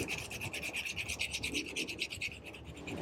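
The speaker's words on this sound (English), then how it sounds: "If you don't have a spindle sander, you can just use a file, and you can even use some sandpaper" A file working the tight curves of a knife handle, giving close, steady back-and-forth rasping strokes in a quick, even rhythm with no talking.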